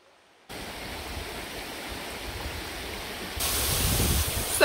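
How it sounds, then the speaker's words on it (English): A waterfall in Washington roars as a steady, broad rush of falling water that starts abruptly and grows louder partway through, with a faint voice near the end. "So we made it to the waterfall."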